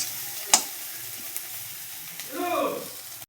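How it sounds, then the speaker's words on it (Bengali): Home-grown bitter gourd slices fry in a pan with a soft, steady sizzle, broken by a sharp clink of utensils and a brief spoken phrase toward the end. "এটা আমার গাছের উচ্ছে, তাই সেটাকেই ভাজছি।"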